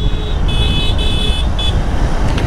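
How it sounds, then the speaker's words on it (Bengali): Stock horn on Suzuki Gixxer motorcycles, including a Gixxer FI ABS, gives several short, fairly loud beeps in a quick broken sequence over a steady rumble of engine and road noise. "কারো বাইকে ডবল হর্ন লাগানো নাই, সবারগুলো স্টক হর্ন লাগানো আছে"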